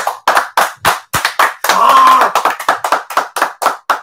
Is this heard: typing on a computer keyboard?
no